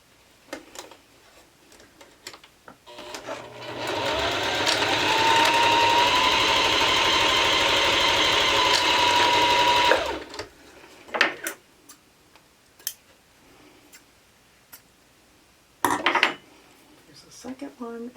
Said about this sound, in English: I'm just going to sew up all 3 of these seams for all 3 layers.